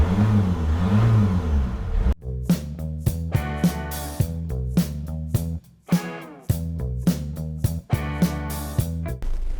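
Auto-Sleepers Malvern motorhome on a Mercedes chassis, 163 horsepower with a nine-speed automatic, driving along; engine hum and road noise inside the cabin with repeated rising revs and gear changes, steady and fairly loud.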